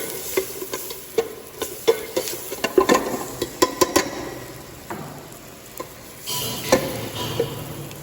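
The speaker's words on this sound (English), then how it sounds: "It is just sauteing for a few minutes," Chopped onions sauteing in a pot as the base for a stock, a steady soft sizzle broken by repeated spoon stirs and light taps against the pot, close up with no talking.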